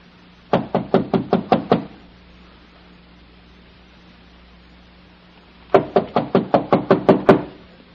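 Knuckles rap on a door as a radio drama sound effect, two crisp volleys of about seven quick knocks each, close and clear, separated by several seconds of quiet.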